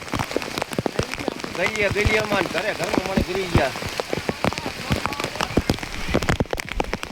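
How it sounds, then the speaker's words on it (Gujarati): Heavy rain pours over a village in Thangadh, a dense, steady patter drumming on surfaces close by throughout, with someone talking over it. "પાણી ફૂલ વરસાદ થઈ ગયું છે આખા ગામમાં"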